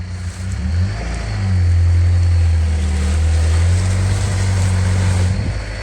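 A Vauxhall Frontera with road tyres, stuck off-road, drones loudly as its engine holds steady revs while all four wheels spin, a low sustained roar that swells and lingers for several seconds.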